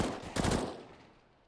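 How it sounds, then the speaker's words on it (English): A short burst of P250 pistol fire in a Counter-Strike esports match, one sharp close crack that quickly fades away. "as Hobbit with the P250 in hand will be able to find down Frostlev"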